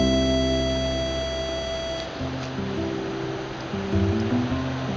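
South Boulder Creek flowing steadily, a continuous rushing wash of water heard close and even throughout, with no voices over it.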